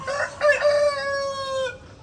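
A Brahma rooster on a neighbouring rooftop lets out one full, loud, close crow, rising at the start and then holding a long drawn-out note before it cuts off.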